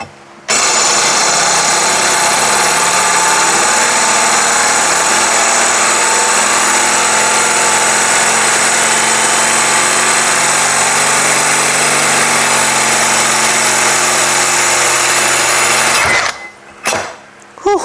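Bosch ceramic drill bit grinding steadily through hard ceramic tile, a loud continuous whine lasting about sixteen seconds before stopping abruptly, followed by a few brief clatters.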